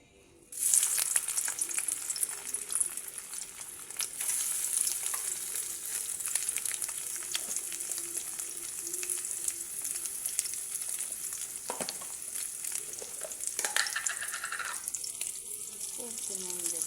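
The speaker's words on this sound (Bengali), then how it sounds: "আগে আমি সয়াবিনগুলোকে ভেজে নেব। তেল গরম হয়ে গেছে।" Soybean chunks hit hot oil for a soybean and potato dum, bursting into a steady, loud sizzle that continues throughout, with occasional stirring clinks and a brief water-like hiss near the end.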